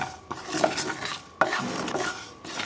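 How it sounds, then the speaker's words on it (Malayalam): Chicken pickle masala dry-roasts in a pan over a low flame, with close scraping stirs and soft rustling and a faint sizzle between a few louder knocks. "ലോ ഫ്ലെയിമിൽ നമുക്കിതൊന്ന് ഡ്രൈ റോസ്റ്റ് ചെയ്ത് എടുക്കണം"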